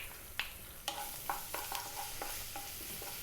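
Finely chopped garlic hitting hot oil in a pan on high heat, a faint sizzle broken by several sharp scraping stirs, close and quiet, no speech.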